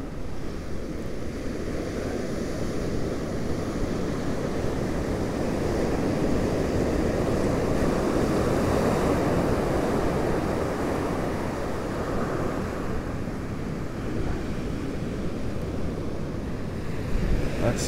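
Atlantic Ocean surf at Smith Point beach rolls and breaks in a continuous loud wash, with steady wind noise on the microphone throughout and no voices.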